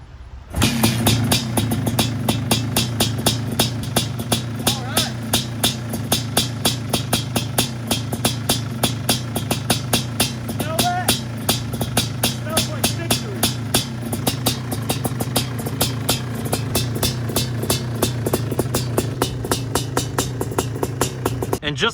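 A restored high-performance quad ATV engine runs loud and close after being kicked over, a steady rapid firing rhythm with slight revving throughout, no talk over it.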